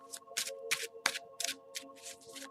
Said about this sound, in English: And I'll shuffle just to tune in.